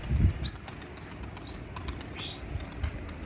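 A bird takes off from a rooftop with a brisk burst of wing flaps close by, plus a few short high chirps in the quiet morning air.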